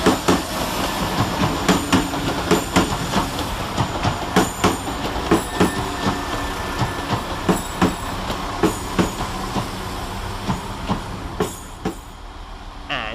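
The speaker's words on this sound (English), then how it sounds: "Departed with the slightly delayed 1026 West Midlands Railway service to Kidderminster via Whitlock's End." Two West Midlands Railway Class 172 diesel units pull out of Stratford-upon-Avon station with a loud, rhythmic clickety-clack of wheels over rail joints and a faint squeal as they pass close by.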